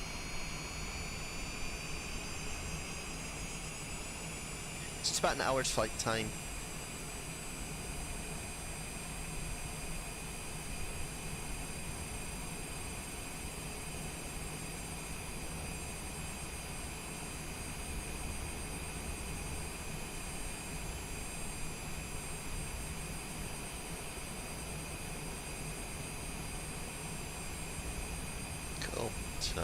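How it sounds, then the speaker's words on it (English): Twin jet engines of a Cessna Longitude business jet run steadily after start-up in MSFS 2024, a constant whine with bright high tones over a broad rumble, while someone talks briefly near the start. "Love starting this little airplane up."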